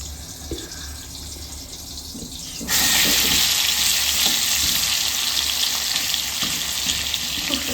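Food frying in a pan, a steady hiss that swells louder partway through and then holds, close by with no one talking.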